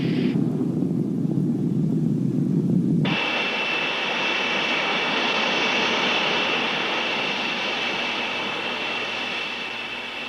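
A Boeing B-47 Stratojet bomber and a tanker roar steadily in formation during aerial refueling in 1954, the jet drone shifting to a brighter, whining tone partway through and holding at an even, loud level.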